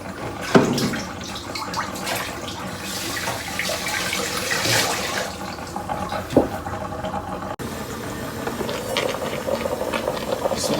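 Water rushes and splashes into a cooking pot while preparing paksiw na tulingan wrapped in banana leaves, a continuous loud gurgling pour with a few sharper clinks, steady to the end.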